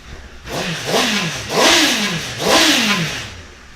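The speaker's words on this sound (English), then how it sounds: "Who doesn't love a bike engine, eh?" A Honda CBR1000RR motorcycle engine with a carbon exhaust revs hard three times in quick succession, each rise and fall close and loud, with no talking.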